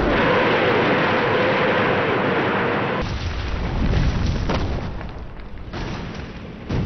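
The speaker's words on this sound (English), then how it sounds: "pounding them with the rocket launchers they call Stalin's organs" A Soviet rocket launcher barrage (Stalin's organs) in archival WWII footage gives a loud, continuous rumbling roar that shifts into a run of dull booms and blasts.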